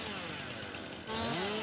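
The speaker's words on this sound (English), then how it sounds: "I am using the lumberjack mod, so I can do this with just a chainsaw." Chainsaw in Farming Simulator 2019 cutting through a tree stump, a continuous loud buzzing engine drone that rises in pitch and intensity partway through as the blade bites in.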